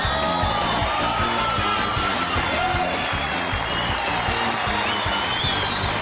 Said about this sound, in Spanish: Un aplauso para Frank